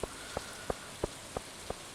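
Rain summoned by a rain totem in the farming video game Stardew Valley falls as a faint, soft patter, with evenly spaced light drop taps repeating about three times per second.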